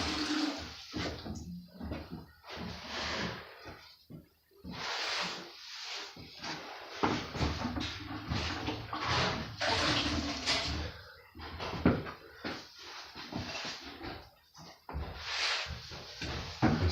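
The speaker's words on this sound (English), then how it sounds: "And then just rinse your sponge off each time." A grout sponge is rinsed and wrung in a bucket of water while grouting tile, with repeated sloshing and trickling splashes in irregular bursts, close and fairly quiet, with no talking.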